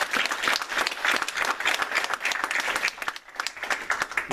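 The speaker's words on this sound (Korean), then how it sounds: "이제 우리 다 같이 축하의 박수 하도록 하겠습니다" A church congregation claps together in celebration during a Sunday service, a dense, steady wash of applause filling the room without pause for several seconds.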